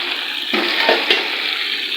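Fried okra goes into a pan of masala and sizzles loudly and steadily, with a brief stirring scrape partway through.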